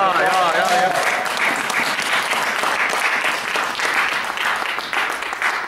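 A church congregation claps in sustained, vigorous applause that fills the room evenly for several seconds. A voice is briefly audible at the start before the clapping covers it.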